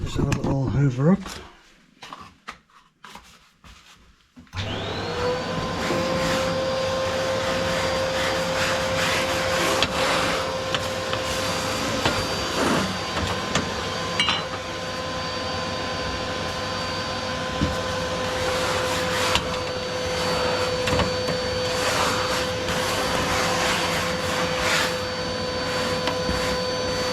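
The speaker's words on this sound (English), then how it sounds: "just have a little hoover up" A vacuum cleaner hoovers ash from a Rayburn Rembrandt stove, starting up after a few seconds of scraping and then running as a steady, loud motor whine close by, with brief knocks and rubbing against the stove.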